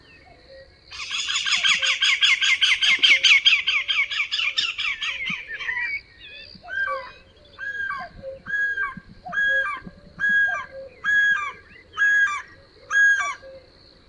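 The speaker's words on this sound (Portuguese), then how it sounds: "neste fecheiro vamos ouvir os dois cucos ao mesmo tempo, o cuco canoro e o cuco rabilongo" A common cuckoo and a great spotted cuckoo calling together in the field: first a rapid harsh chattering burst, then a regular series of short repeated calls at even intervals, clear and fairly close.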